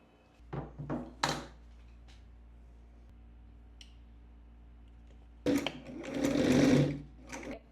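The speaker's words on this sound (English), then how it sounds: "I'm going to be using a zigzag stitch, just a different one than here, because when you're sewing stretchy fabrics, you need to use zigzag stitches." Sewing machine running a zigzag stitch on stretchy fabric: a few short whirring starts early, a quiet pause, then a longer loud close burst of rapid mechanical stitching near the end.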